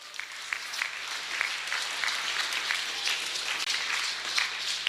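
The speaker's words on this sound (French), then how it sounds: "On acclame. On acclame très fort." A church congregation applauds with sustained, dense clapping that holds steady throughout, heard from within the crowd.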